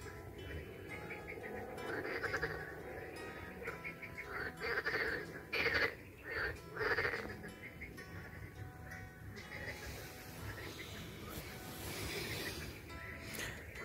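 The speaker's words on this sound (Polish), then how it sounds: "Pięknie żaby jadą." Frogs croak in a chorus at a fishing lake, a rhythmic mix of calls rising in several louder bursts midway, with quieter background croaking throughout.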